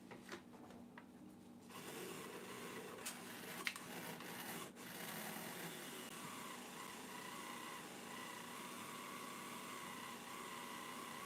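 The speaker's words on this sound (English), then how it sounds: "Do a little sanding here" Sanding on a Corvette mirror, a continuous, even rubbing rasp after a few faint scrapes at the start, quiet and close with no talking.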